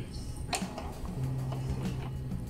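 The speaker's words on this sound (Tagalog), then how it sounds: "Okay, ngayon try natin mag head cleaning" An Epson L121 inkjet printer runs a head cleaning cycle, giving soft mechanical clicks, a sharp snap and a low steady motor hum, quiet and close.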